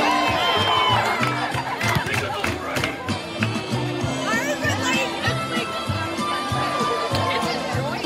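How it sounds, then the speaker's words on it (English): Crowd noise at a high school chicken poop bingo event, a steady roar of chatter and cheering with scattered shouts and laughter, loud and continuous throughout. "Everybody cheer on this chicken."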